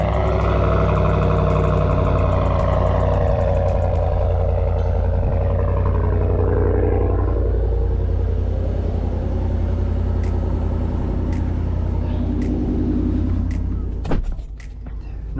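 A GMC Sierra AT4 pickup truck runs after a cold start, holding a loud, steady, high idle rumble with a tonal whine. The drone eases slightly toward the end, where a few sharp clicks break through.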